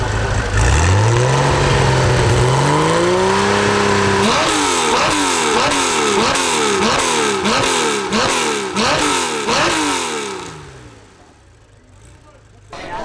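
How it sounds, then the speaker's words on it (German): A loud classic racing car engine at the 2023 Arosa Classic Car event in Switzerland revs hard nearby, climbing through a rapid series of gear shifts before the roar fades away. "wieso hört sich das Auto an wie ein RSR?"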